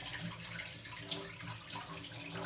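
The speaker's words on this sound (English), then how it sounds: "I'm gonna wash my hands again here." Water runs steadily from a kitchen tap while hands are washed during cooking, a soft continuous hiss and splash with no one talking.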